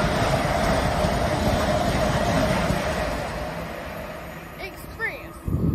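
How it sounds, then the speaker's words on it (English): A Heathrow Express train passes through Ealing Broadway station with a steady, loud rumble that fades toward the end, while faint voices murmur nearby. "There's a train."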